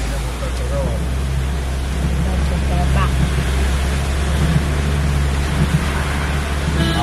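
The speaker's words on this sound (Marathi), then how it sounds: "काय प्रेशर आहे बघ त्याचं. थोडी स्लो जाऊ दे गाडी तिथे. हा आंबेनळी धबधबा" Ambenali waterfall in the rain-soaked Western Ghats pours with a steady, broadband roar from close by, heard from a slow-moving vehicle, with low engine rumble underneath and a voice speaking over the rush of water.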